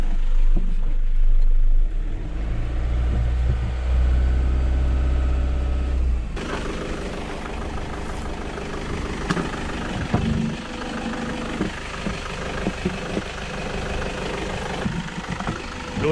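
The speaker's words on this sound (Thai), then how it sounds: "เร่งเครื่องช่วยเป็นระยะ" A Toyota Sport Cruiser engine idles with a heavy low rumble during a radiator flush, then is revved and held at a higher pitch for several seconds, loud and close.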